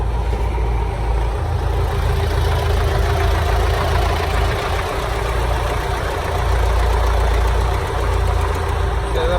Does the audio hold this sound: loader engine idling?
yes